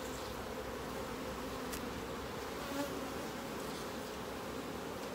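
Saskatraz honeybees hum at an apiary hive, a dense, steady swarm drone filling the whole stretch at an even level, with no speech.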